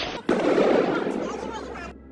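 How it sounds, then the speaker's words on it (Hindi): Gunfire crackles during street protests in an Iranian city: a sudden loud burst of shots holds for well over a second before cutting off, heard outdoors with voices mixed in. "आगजनी, तोड़फोड़, नारेबाजी और फायरिंग की आवाजें सुनाई दे रही हैं।"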